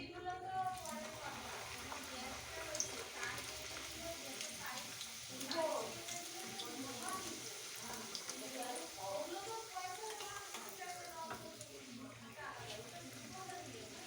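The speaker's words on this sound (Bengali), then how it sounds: "আমার তেলটা গরম হয়ে এসছে, এবার আমি ছেড়ে দেব কচুরিটা" Sattu kachori hits hot oil in a pan and fries with a steady, soft, hissing sizzle that runs throughout, with a person talking over it now and then.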